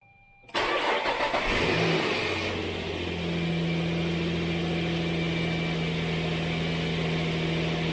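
A Nissan Frontier engine kicks in abruptly and climbs, then settles into a steady close drone with road rumble as the truck pulls back onto the highway at about 40 miles per hour.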